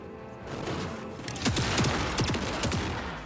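An automated turret in the MENACE strategy game opens up with a rapid burst of automatic fire, sharp repeated shots sounding over a low battlefield rumble for about two seconds.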